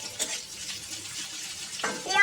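Chopped onion frying in a pan for a fish fry recipe, a faint crackling sizzle with soft stirring scrapes and a brief clatter near the end, quiet and close.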